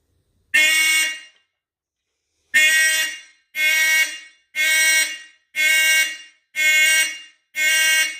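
A vintage Simplex 2903 fire alarm horn sounds during a system test, giving one long loud blast, a pause, then six steady, evenly spaced blasts of roughly a second each, with no voices.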